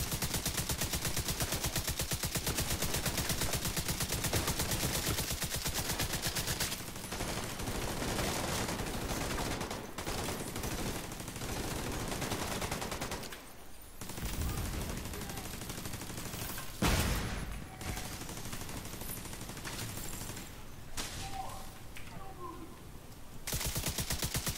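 Sustained rapid gunfire from The Division 2, a video game, with near-continuous automatic bursts for most of the stretch, a few brief pauses, and some speech faintly mixed in.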